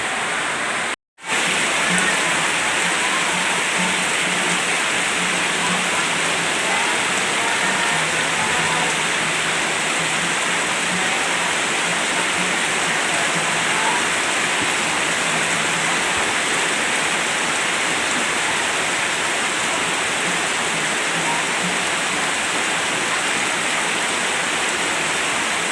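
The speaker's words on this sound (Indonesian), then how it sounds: "Ya, ini hujan deras ya." Heavy daytime rain pours down steadily on a village in Simeulue, Aceh, a dense, loud and unbroken hiss that fills the whole stretch with no voices over it.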